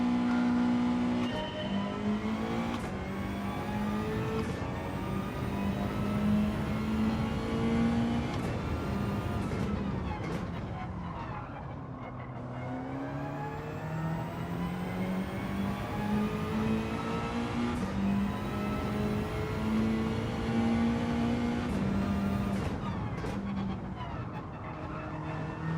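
A Mazda race car engine in a racing video game, revving high through repeated upshifts, pitch climbing then dropping with each gear change, sustained and loud for the whole stretch with no talk.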